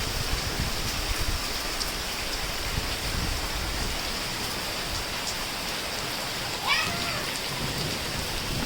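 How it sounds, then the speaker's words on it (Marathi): Rain pours steadily at night near the Khed railway station, a dense, even rush of drops on surfaces, close and continuous. No thunder stands out. "विजा पण कडकत आहेत आणि वाटतं पावसाला सुरुवात केलं"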